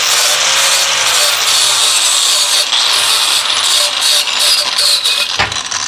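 Flap disc grinding metal on a Corvair Powerglide transmission part, a loud, continuous abrasive whine and hiss that stays steady throughout with slight variations in pressure, ending with a brief drop near the end.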